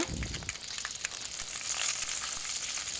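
Mustard seeds, cut red chili and curry leaves crackle and sizzle in hot oil, a steady close frying hiss with a brief thud of ingredients dropping in at the start and light popping throughout.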